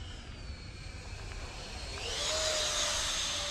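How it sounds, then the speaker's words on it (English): A 3D printed Gripen model airplane in flight, its electric ducted-fan whine droning steadily and then rising sharply in pitch and volume as it passes, with no talking. "Such a great flying airplane."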